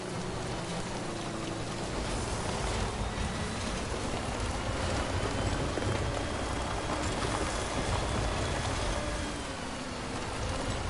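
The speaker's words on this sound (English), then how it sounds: "Oh, it's just raining everywhere right now." Steady rain pours in the video game Death Stranding, a dense, continuous hiss of drops falling across the whole stretch with no break, holding an even loudness throughout and no voices over it.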